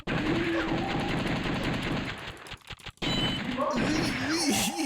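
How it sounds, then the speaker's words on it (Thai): Rapid bursts of gunfire from The House of the Dead 1, an arcade light-gun zombie shooter, fire fairly steadily with a short break midway while a player talks over the shots. "ยิงไปแล้วมันต้องยิงสลับกัน ยิงทีหนึ่ง แม็กทีหนึ่ง"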